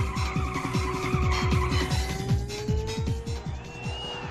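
In an arcade racing video game, a car skids around a corner with a long, wavering tire squeal over a pulsing, revving engine, loud and close throughout.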